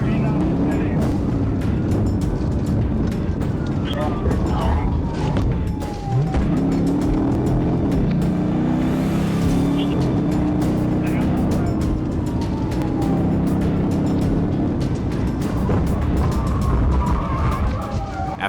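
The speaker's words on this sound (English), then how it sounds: "A high-speed pursuit began." During a high-speed police pursuit, a fleeing car speeds along the road, caught on dashcam as a loud, continuous roar of engine, wind and road noise with brief tyre and mechanical sounds throughout.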